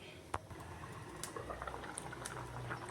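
Thai green curry simmers in a covered pot over a low flame, faint soft bubbling and small pops with occasional sharper ticks, quiet and close.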